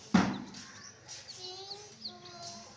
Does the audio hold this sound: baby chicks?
yes